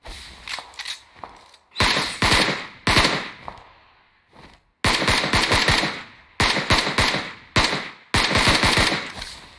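Rapid automatic gunfire from a shooter video game crackles in short, loud bursts separated by brief gaps, with single shots between them and no talking.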